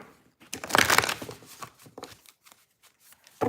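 Tarot cards being shuffled by hand, a short burst of crisp riffling and flicking followed by lighter scattered card taps and rustles, close and fairly quiet.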